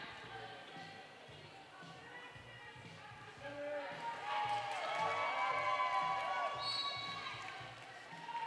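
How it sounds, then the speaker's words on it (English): Crowd at a roller derby bout between Brawl Saints and Norfolk, shouting and cheering from the far side of the venue, swelling midway and staying loud with skate and floor noise underneath. "There was a lot of shouting over there on the far side"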